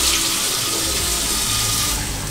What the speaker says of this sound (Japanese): 流します